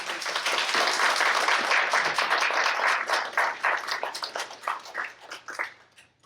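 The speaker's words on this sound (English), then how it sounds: "Can we just maybe clap for all these women?" An audience applauds a group of women at a community gathering, with dense clapping that holds steady and then thins into scattered individual claps as it fades out.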